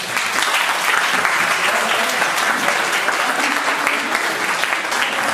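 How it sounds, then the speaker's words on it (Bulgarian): Loud, sustained applause from a school audience for a student music group, steady clapping filling the whole stretch with no pause. "Значи аплодисменти за групата."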